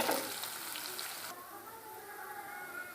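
Onions fry in a pan with a bright sizzling hiss that drops abruptly to a much quieter, softer simmer partway through.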